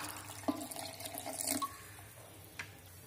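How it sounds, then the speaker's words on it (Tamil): Water is poured into a mixer grinder jar while making a pani puri paste. A short, quiet splash and trickle comes with a few small clinks, then a faint drip near the end. "தண்ணி ஊத்தி அரைச்சுப்போம்."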